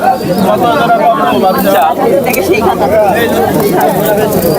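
Pigeons coo among the crowd at a Thursday pigeon market in Nazirpur bazaar, where many birds are sold. Their cooing rises and falls steadily under constant close chatter and bargaining voices.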